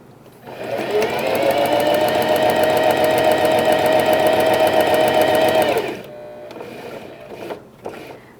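A sewing machine runs a wide topstitch on a pet bandana, a steady loud whir for several seconds that then stops, leaving faint handling noise.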